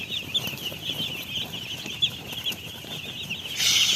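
Hens clucking around their chicks with a steady high peeping of chicks, soft scuffling and a brief burst of wing flapping near the end, close and fairly quiet.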